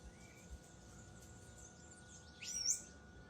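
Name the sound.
birds chirping in early morning nature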